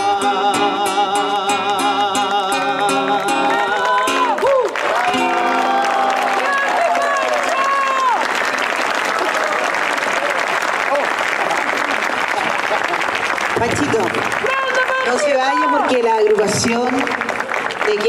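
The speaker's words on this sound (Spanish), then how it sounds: "Así es que este aplauso con esta entrega simbólica de un presente para Pancho Villa." Applause from an audience at a Chilean commemoration of politically executed victims, steady and dense for about eighteen seconds, with a voice speaking over it and some music-like tones early on.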